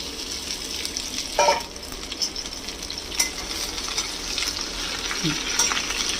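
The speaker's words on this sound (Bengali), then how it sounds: "কালো জিরে দিয়ে দেওয়ার পরে দিয়ে দেব এই কাটা ভেন্ডিগুলো" Cut okra hits hot white oil with black cumin in a pan, giving a steady, soft sizzle with occasional light scrapes and clinks of stirring close by.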